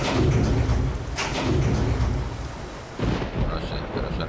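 Heavy rain and rolling thunder inside Euro Truck Simulator 2, a steady dense downpour with deep rumbling swells, loud and continuous throughout with no one talking.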